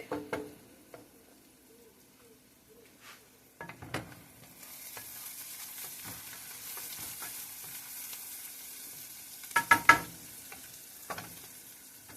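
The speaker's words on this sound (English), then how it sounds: "make sure you keep on stirring your gravy, even if when you're making it homemade." Homemade gravy being stirred in a pan on the stove: a soft, steady scraping and sizzle runs through most of the stretch, with a few sharper clinks and knocks of the utensil against the pan, close and moderately quiet.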